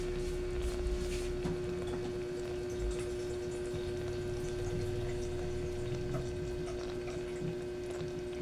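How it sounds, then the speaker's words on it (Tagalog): Water poured into a pan of mackerel simmering in coconut milk, a soft steady trickle and splash under a constant low hum, faint and close. "Dinagdagan ko ng konting tubig."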